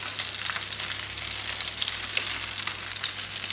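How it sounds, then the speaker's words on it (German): Trout fries in butter in a pan that is gently swirled, giving a steady, close, even sizzle with a faint low hum underneath and no speech. "immer ein bisschen schwenken, dass das die Butter auch wieder unter die Forelle gerät"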